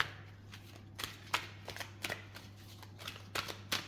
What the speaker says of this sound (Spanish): yo prefiero siempre barajar en cámara, como ustedes pueden ver